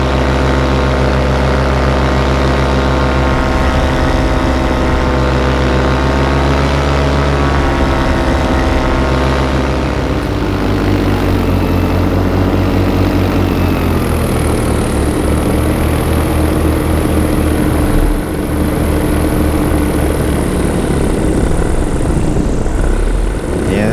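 A paraglider paramotor engine runs steadily and loudly throughout, a continuous droning hum with a slight pitch shift midway, close to the listener on a cold frosty morning flight.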